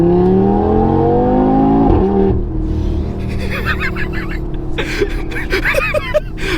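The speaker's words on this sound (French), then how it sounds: "entend le bruit du doux 5 cylindres turbo de la nouvelle RS3, notre ami Florian." Audi RS3 8Y (2023) five-cylinder turbo engine revving hard with a rising, harmonic-rich note, then settling to a steady drone as the car drives on, with faint voices and cabin noise later.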